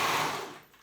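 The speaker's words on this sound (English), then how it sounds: "I use my serger because I just find it faster." A serger sews along a fabric edge, giving a fast, dense mechanical whir that starts loud and fades out within a second, with no voices.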